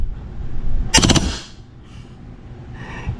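A KWA HK-MP7 airsoft gun with a suppressor fires one short, loud full-auto burst of rapid clattering shots lasting about half a second, followed by quieter handling noise and background hum.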